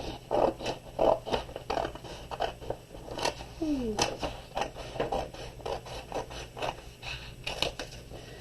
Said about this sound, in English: But I have big sheets, so I'm going to cut them down.